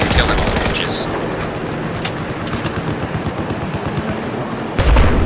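Pistol gunfire in Battlefield 4 rings out as sharp cracking shots amid dense, loud battle noise and explosions, with a voice talking throughout.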